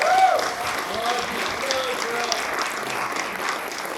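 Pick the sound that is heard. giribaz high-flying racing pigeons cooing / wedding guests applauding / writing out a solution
wedding guests applauding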